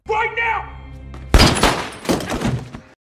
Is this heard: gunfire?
yes